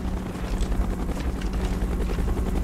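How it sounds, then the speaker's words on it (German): A helicopter approaches in the video game Call of Duty: Black Ops, a steady low rotor drone and whine held at even loudness with no talk over it. "Helikopter im Anflug!"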